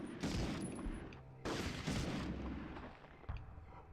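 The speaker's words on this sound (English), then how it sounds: "Heard another gunshot behind me." Gunfire and explosions in the World War II shooter Medal of Honor, dense overlapping bangs and booms with rolling echoes, loud and continuous, no talking.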